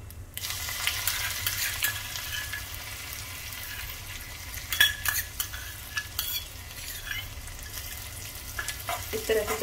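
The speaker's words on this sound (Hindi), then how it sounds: "इस तरह से चलाते रहेंगे जब तक लहसुन हमारा अच्छे से ब्राउन हो जाए।" Crushed garlic fries with cumin and asafoetida in a pan, a continuous close sizzle broken by scraping and clinking as a utensil stirs the pan steadily.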